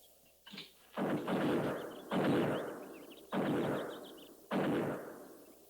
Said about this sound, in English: Buffalo guns. That's one sound they can't muffle.